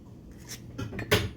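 A spoon gently sifting eggshell out of a bowl of cracked eggs: a few soft, quiet clinks and scrapes against the bowl over about a second and a half, close by.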